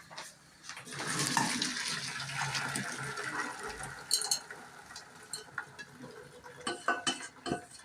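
Boiled wild greens tipped into a strainer in a village kitchen, water gushing and draining in a steady splashing rush, then trailing off into scattered drips and light metallic clinks of the pot.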